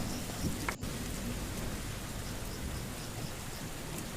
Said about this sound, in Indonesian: Petir kembali menyambar membelah langit tanpa gemintang.